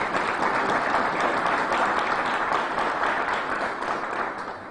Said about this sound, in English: give a round of applause to our new county executive, Adam Bella